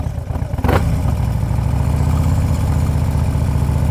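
Motorcycle engine idling in gear, a close, loud and steady low chugging that begins abruptly after a short burst of noise and then holds an even throb.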